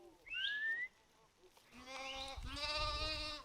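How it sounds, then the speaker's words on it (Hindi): Sheep bleat on a Himalayan pasture in Himachal Pradesh: a short high call first, then after a pause a longer, louder, wavering bleat from more than one animal, close by, with no talking. "सीटी बजाते और आवाज लगाते हुए सुरेश कुमार अपनी भेड़ों की रखवाली करते हैं"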